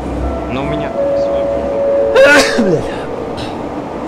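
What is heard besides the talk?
sneeze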